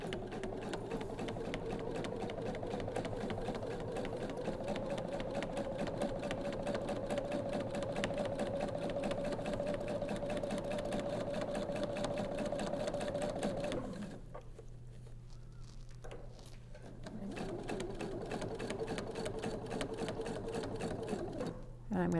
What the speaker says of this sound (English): I'm going to come forward and stitch right in the ditch between the two pocket fabrics